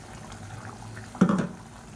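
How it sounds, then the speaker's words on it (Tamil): Kurma curry simmering in a pot with ground coconut paste just added, a low steady bubbling with a brief louder burst of splashing midway. "இப்போ பாருங்கள், தண்ணி ஊற்றி நல்லா கொதிக்க ஆரம்பிச்சிருச்சு"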